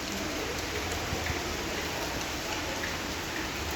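Heavy rain pours steadily in Fortaleza, Ceará, a dense, even hiss of drops drumming on surfaces close by with no voices.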